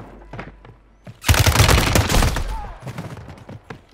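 Loud bursts of rapid gunfire ring out in a Rebirth solos match of an online shooter game, a sustained volley with echoing tails, preceded and followed by scattered softer shots and thuds.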